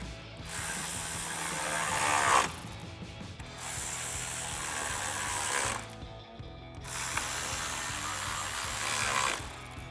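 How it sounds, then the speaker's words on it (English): A ratchet fitted with a 7mm socket tightens intercooler screws on a 2015-2026 Ford F-150, giving close, loud, continuous clicking in several long bursts separated by brief pauses. "We want to use a 7mm socket and a ratchet to tighten them down."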